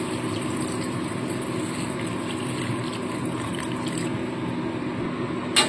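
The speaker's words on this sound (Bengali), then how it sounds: "দিয়ে দিচ্ছি জল।" Water is poured steadily into a cooking pan holding potatoes, eggplant and mourola fish for a spicy curry, a soft continuous splash that ends with a faint clink.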